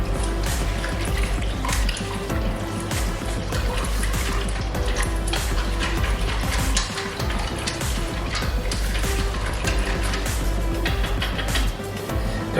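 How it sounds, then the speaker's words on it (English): Honey mustard sauce being whisked in a bowl makes a brisk, dense, wet clatter, steady and close throughout, with no talking. "Give that a little whisk,"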